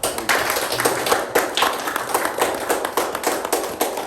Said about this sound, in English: we should just have a bit of a round of applause to Bob for all his help.